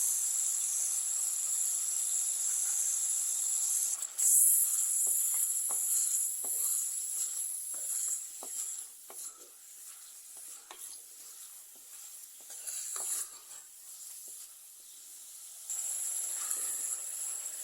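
Curry leaves sauté in a pan with tomatoes and green chillies for a papaya curry, giving a faint, continuous high sizzle and hiss with occasional soft stirring scrapes and clicks.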